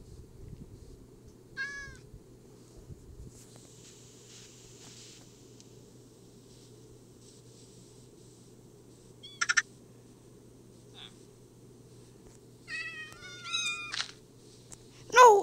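A cat in a survival video game meows several times in short, high chirping calls, scattered across quiet stretches over a steady low game ambience, with the loudest meows toward the end.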